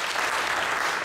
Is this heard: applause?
yes